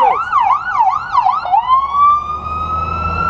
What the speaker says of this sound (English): these sirens, these are a spiritual thing